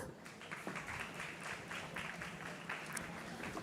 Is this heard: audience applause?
yes